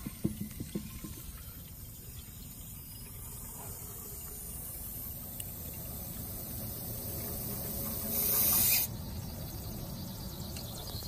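Steady hissing rush of water spraying continuously from a broken Indmar Monsoon boat engine exhaust manifold under test, with a brief louder burst of hiss near the end.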